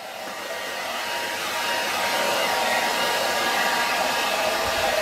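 A hair dryer blows steadily and loudly at close range, drying the wet parts of a Dometic camper-van fridge that had failed from a short circuit after a leak. The airflow holds a constant whooshing roar throughout.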